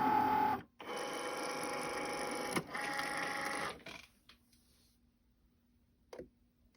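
A Cricut Maker cutting permanent vinyl gives a steady mechanical whir and buzz with carriage clicks, running loud for about four seconds, then dropping to a faint hum with a couple of brief clicks near the end.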